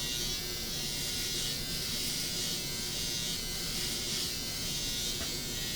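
An electric hair clipper buzzes steadily while cutting hair during a haircut, a loud, close, continuous hum with no pauses and no talking.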